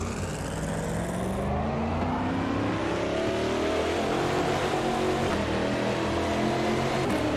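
A race car engine in the racing video game Automobilista 2 revs steadily higher through the gears, a loud continuous whine climbing in pitch without any talking.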